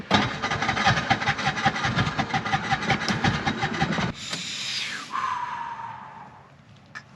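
A tuk-tuk's small engine labours uphill on a Bolivian road, a rough throbbing drone for several seconds that cuts to a higher whine sliding downward and fading, close and loud with no voices.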